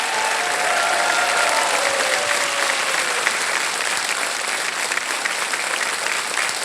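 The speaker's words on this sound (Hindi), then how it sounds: "मैं चाहता हूं एक बार फिर तालियों के साथ इनका स्वागत करें।" A studio audience at a televised quiz show applauds steadily and warmly. The dense clapping holds at an even level throughout, with no pauses.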